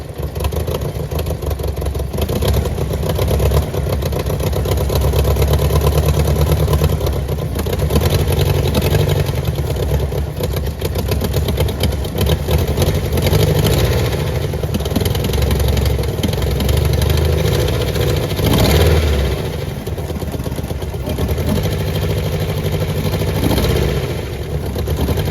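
A Nissan Maxima fitted with an SR20DET engine runs with a heavy misfire, its loud, close, rough idle churning continuously with uneven, stumbling pulses and occasional surges in the low rumble.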